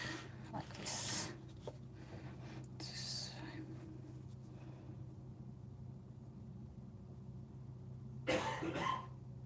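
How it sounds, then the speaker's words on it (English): A person coughs faintly in the background of a quiet room where someone paints with acrylics, with a couple of short bursts near the start and another near the end, set against low hum and soft murmuring. "We've got a cough in the background."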